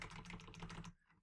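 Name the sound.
typing keywords on computer keyboard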